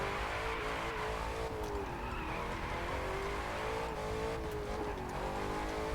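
A Ford Mustang muscle car in the racing game The Crew 2 holds a loud, continuous engine roar that rises and dips slightly with the throttle, alone, with no talk over it.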